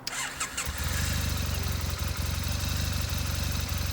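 A Triumph Bonneville motorcycle engine cranks briefly and then catches, settling into a loud, steady, throbbing idle close by.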